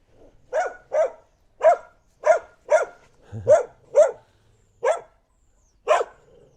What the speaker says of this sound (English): And a mean dog.